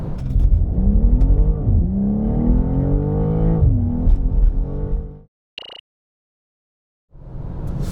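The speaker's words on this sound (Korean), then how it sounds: "자, 그렇다면 이번에는 BMW M2 발진 가속 성능 한번 볼까요?" A 2024 BMW M2 launches from a standstill with a loud, close engine roar that climbs in pitch, drops briefly at gear changes, then cuts out abruptly into near silence.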